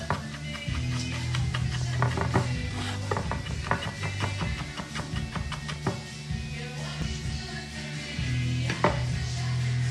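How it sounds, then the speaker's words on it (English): Chilies being finely chopped with a knife on a board, a quick, steady run of close taps that pauses briefly now and then, with faint background hum throughout. "So just really finely chop up those chilies."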